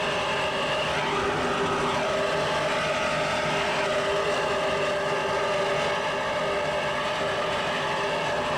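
Powerful race boat engines roar in a dense, steady drone at a 1983 APBA powerboat race in Coral Gables, loud and continuous throughout with no voices over it.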